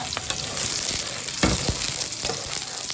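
Egg frying in hot oil together with garlic fried rice, a dense close sizzle with spatula scrapes and stirring clatter throughout, no voices.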